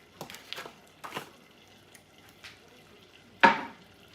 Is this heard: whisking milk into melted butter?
yes